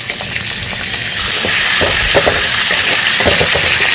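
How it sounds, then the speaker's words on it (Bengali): Dried chillies and chopped garlic dropped into hot oil, a loud, close hiss of sizzling with scattered pops and stirring scrapes that grows slightly stronger partway through. "গরম তেলের উপরে আমি শুকনো লঙ্কা দিয়ে দিলাম। এবার দিয়ে দেবো রসুন কুচি।"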